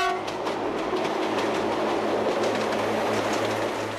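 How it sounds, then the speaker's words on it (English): A two-car diesel train on the Corsican railway rolls past with a steady rumbling drone and rhythmic clickety-clack of wheels over rail joints, loud and close throughout, with no voices. "Today, standard power for all Bastia to Ajaccio services are these two-car Soule diesel"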